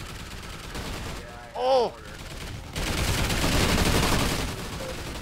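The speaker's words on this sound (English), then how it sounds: "Why are there explosions?" Explosions and gunfire erupt in Call of Duty Ghosts Extinction co-op mode, a dense, loud, continuous barrage of blasts and shots that swells in the second half, with one short exclamation from a player early on.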